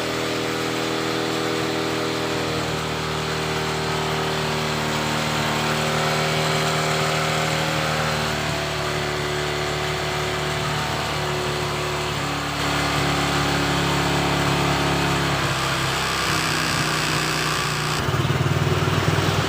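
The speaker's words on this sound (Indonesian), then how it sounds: "sembari menunggu mesin ini panas, selagi kita menunggu mesin panas" A Honda Supra X 125 motorcycle from 2018 idles steadily while warming up, a continuous close, even engine hum with slight shifts in tone and no talk over it.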